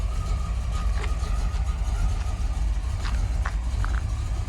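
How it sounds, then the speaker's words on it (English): A 1978 Buick Regal engine idles with a steady low, lumpy rumble through loud mufflers, constant and close, with a few faint clicks and sounds above it. "Listen to those mufflers."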